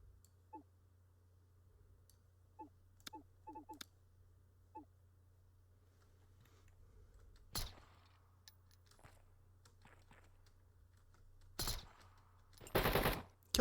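Video game gunfight heard mostly as scattered clicks and faint isolated shots, then a few sharp louder gunshots and a short closing burst, over quiet low hum with no talk.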